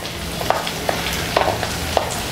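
Four split green chillies drop into boiling oil and fry with a steady bubbling sizzle, broken by a few sharp spits and pops, up close and with no one talking.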